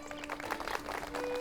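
Wedding guests applaud a performer named Fortuna, a short burst of dense, steady clapping from a crowd with faint voices mixed in.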